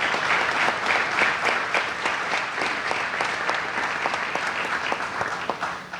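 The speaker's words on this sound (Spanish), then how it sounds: "Santiago Barassi, un aplauso" Sustained audience applause at a youth celebration of Pope Francis, a dense steady patter of many hands clapping at even loudness throughout, with no talk over it.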